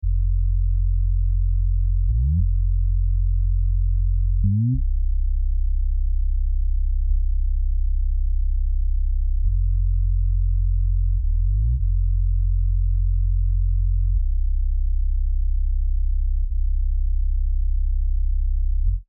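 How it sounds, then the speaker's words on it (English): Sub bass line from the Citrus synth in FL Studio, a deep pure low tone holding long steady notes with a few quick upward pitch slides between them, loud and alone with no talk. "So that sound is a sub bass sound from Citrus."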